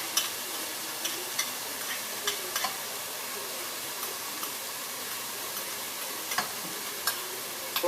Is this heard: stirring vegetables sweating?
yes